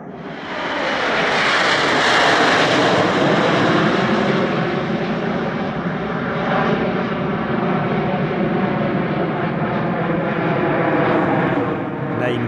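Al Fursan, the UAE aerobatic team of the Knights of the Emirates, flies a jet display at the LIMA Langkawi airshow. A loud, sustained roar of jet engines fills the whole stretch, swelling then holding steady and broad.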